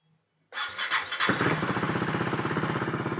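A KTM Duke 390 motorcycle with a faulty kill switch and a ride-by-wire throttle problem cranks briefly, then catches into a close, loud running engine with a steady pulsing throttle rhythm and no speech.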